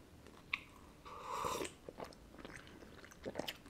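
A Snickers bar with peanuts is bitten and chewed up close and quietly. A sharp snap comes first, then a longer crunch and a run of soft, irregular chewing clicks.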